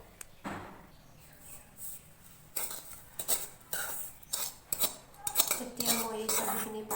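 Roasted semolina being moved into a bowl to cool, with scattered metal spoon and dish clinks and scrapes, close and fairly quiet, irregular taps.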